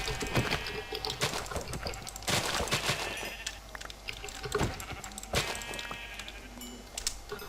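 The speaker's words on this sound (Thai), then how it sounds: "ฆ่าแกะแป๊บ" Sheep bleating in the video game Minecraft, heard repeatedly over a faint game background and mixed with quick clicking taps.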